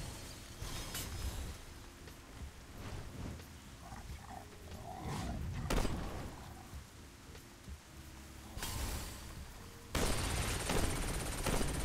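Rapid bursts of weapon fire in a shooter video game, including a shock-type weapon, crackle and rattle at moderate loudness with brief quieter gaps and a harsher burst near the end.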